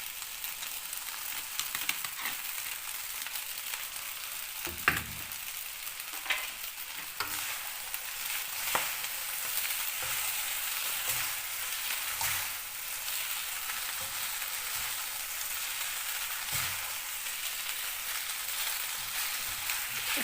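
Spaghetti and vegetables for chicken chow mein fry in a pan with a continuous bright sizzle, while irregular scrapes and taps of stirring cut through now and then.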